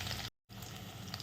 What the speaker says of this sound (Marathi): लसणाला फोडणी दिली